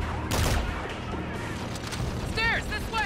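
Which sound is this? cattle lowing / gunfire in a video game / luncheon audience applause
gunfire in a video game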